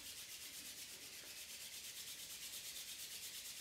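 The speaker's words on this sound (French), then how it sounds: "Je frotte mes mains" Palms rubbed together vigorously during a qigong self-massage routine, making steady, close, hissing friction strokes in a quick, even rhythm, quiet and alone.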